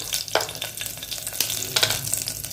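Curry leaves, green chilli, cloves and whole spices hit half a teaspoon of hot oil for rice khichdi, and a close, lively crackle and spattering sizzle pops unevenly throughout.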